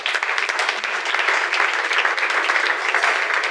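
Church congregation applauding together to acclaim the Lord, a dense, steady wash of many hands clapping throughout, fairly loud and close, with no talk over it.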